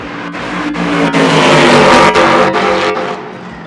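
A very loud race car on full slick tyres with center-lock wheels roars close by, engine noise sustained and dense throughout with brief dips between revs.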